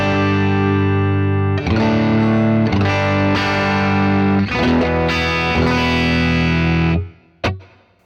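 An electric guitar plays through 66 Super and Z80 amp models in a stereo dual-amp Line 6/Fractal preset: driven, effects-laden chords ring out in several strums, then stop, followed by a brief plucked note.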